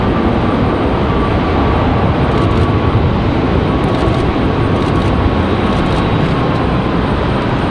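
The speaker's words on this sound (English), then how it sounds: "Southwest touching down already. Over here on 23 right." A Southwest airliner touches down on runway 23 right at Raleigh-Durham airport, producing a constant, loud, rushing jet roar heard up close with no voices over it.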